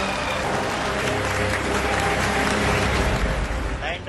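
Sustained, loud applause fills an ISRO mission control room after the Chandrayaan-3 lander touches down on the moon, dense and steady throughout, with crowd noise mixed in.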